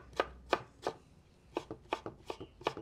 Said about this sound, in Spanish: Ahora vamos a picar los tomates. Esto los voy a hacer en cuadritos.